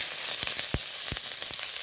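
Dried red chillies, bay leaves and five-spice seeds frying in a little oil, a continuous bright sizzle broken by several sharp pops and crackles, close and without talk.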